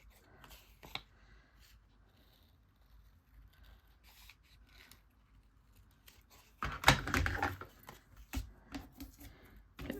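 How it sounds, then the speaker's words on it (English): Scissors snip through paper in a short, loud burst of cuts after a stretch of quiet handling and light rustling. "We'll go back with our scissors."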